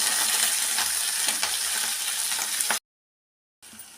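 Ponnaganti greens frying in oil with green chillies and garlic, a close, even sizzle with light stirring clicks, then a sudden drop to silence before the sizzle briefly returns.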